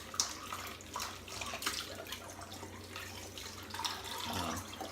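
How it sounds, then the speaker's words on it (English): Shaving bowl rinsed under a running tap, a soft, faint stream of splashing water with a few louder sloshes and drips as the bowl is swirled, close by and without speech. "just rinsing out the bowl"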